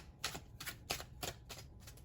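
A tarot deck is being shuffled by hand, giving six crisp riffling bursts at a steady, quick rhythm, close and alone.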